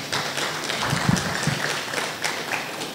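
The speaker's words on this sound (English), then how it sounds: "Please, can we give a round of applause to the host?" Crowd applause at a summit talk in Abuja, a broad, steady wash of many hands clapping for about three seconds, with a few sharper claps standing out near the middle.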